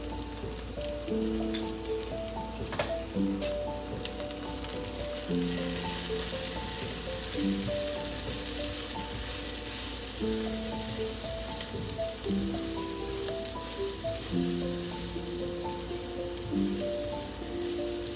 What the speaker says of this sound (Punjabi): ਇੱਕ ਮਿੰਟ ਮਸਾਲੇ ਭੁੱਜ ਗਏ ਆ ਜੀ